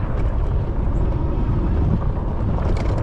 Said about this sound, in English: Oh yeah, that wind feels good.